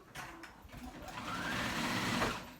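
A sewing machine runs in a steady continuous whir that builds and holds briefly, triggered by pressing the wrong pedal while zigzag-stitching a petal top, with no talking.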